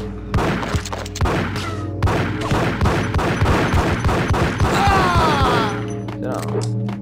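Gunfire in the Max Payne video game: a dense run of sharp shots and thuds through most of the stretch, layered with in-game music and sound effects, with someone talking over it.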